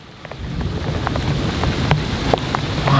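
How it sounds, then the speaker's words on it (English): Heavy rain pouring down in an orchard during a summer thunderstorm, a dense steady hiss with sharp individual drops and a low rumble underneath, building slightly toward the end. "Wow, it's really raining."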